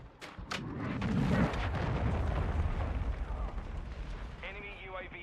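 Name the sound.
cruise missile explosion in video game Call of Duty: Modern Warfare II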